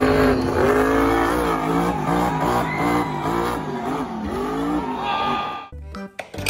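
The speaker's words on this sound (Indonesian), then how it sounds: "Di sini ada mobil truk monster." Engine revving and whining from a toy monster truck, a continuous loud buzzing drone with rising and falling pitch sweeps that cuts off abruptly near the end.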